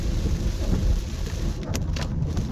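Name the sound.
heavy rain falling on a hike in Galloway forest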